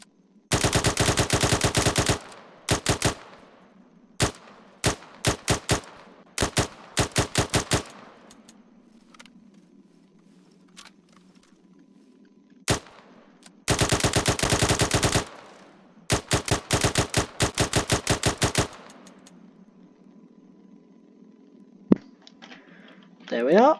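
An L85 rifle fires in Arma 3 with the 3CB BAF mod, loud and close, in rapid automatic bursts and single shots with pauses between, ending in a few quieter sounds.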